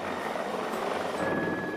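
A rescue helicopter hovering over water during a river rescue, a steady, loud, continuous rotor and engine roar with no break.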